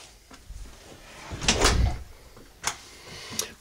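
A swinging storm door on the rear entry of a Quailridge 39AKFFL park model RV swings open and shuts, with a loud rattling clatter in the middle and a couple of sharper knocks afterward, close by.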